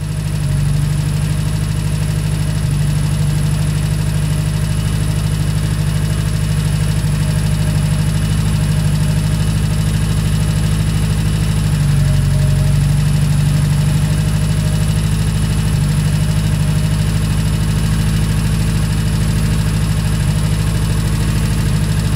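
A Fiat 850 Spider engine idles steadily and close by for the whole stretch, a constant low rumble with the alternator disconnected and no voice over it.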